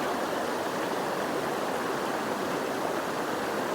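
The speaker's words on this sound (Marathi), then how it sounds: "आणि प्रवाह बघा किती मोठा आहे नदीचा आपल्या." A broad river in the Konkan countryside rushes past in a steady, full hiss of flowing water, constant and fairly close, with no voices.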